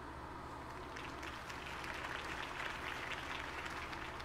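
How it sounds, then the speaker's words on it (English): Steady crowd applause in the video game Batman: The Telltale Series, a continuous wash of many hands clapping, somewhat distant and even in level throughout. "could have heard that applause"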